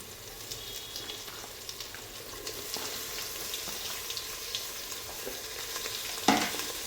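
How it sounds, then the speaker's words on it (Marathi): Ivy gourd, potato and tomato tipped into a hot pan for Khandeshi masala rice, a low sizzle with soft scraping stirs and one louder clatter near the end, heard close with no speech. "आता यामध्ये मी तोंडले, बटाटा आणि टोमॅटो टाकून घेत आहे"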